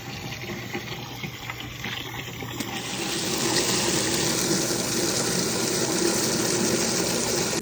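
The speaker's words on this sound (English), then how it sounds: "I'm filling my bucket with water." Water gushes steadily into a bucket on a small chicken farm, a continuous loud pouring hiss that swells partway through as the flow increases, close to the microphone with no talking.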